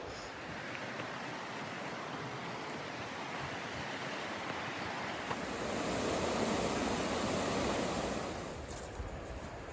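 Continuous rushing water flowing nearby, a broad steady wash of sound that swells slightly partway through, with no talking.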